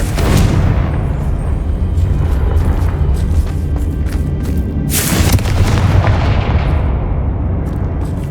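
A loud Confringo blasting spell in the video game Hogwarts Legacy goes off in a deep, booming explosion that rumbles on, with a second sharp burst flaring midway before the roar tails off.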